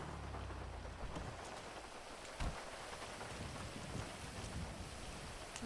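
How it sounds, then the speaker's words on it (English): A rainstorm in GTA Online, steady rain hissing on surfaces with scattered drops and a brief low rumble of thunder, fairly faint and continuous with no talk. "It's a very nice rainstorm"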